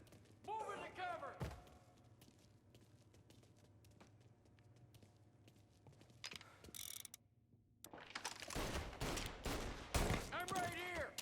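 A shootout in the Mafia remake video game, where bursts of gunfire and mechanical weapon clatter come through around shouted voices, with loud volleys near the start and again toward the end.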